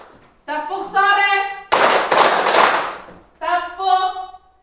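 A school class claps along in a rhythmic clapping chant, a loud burst of many hands clapping together set between stretches of sung, harmonic chanting voices.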